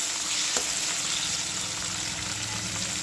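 Eggplant pieces sizzle and fry in a hot pan while being stirred, a steady loud crackling hiss with brief scraping stir sounds, no talking.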